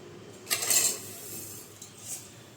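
A spoon clinks against a metal pot of milk as sugar goes in for ginger coffee, giving a short burst of scraping clatter followed by a couple of fainter taps, close and alone.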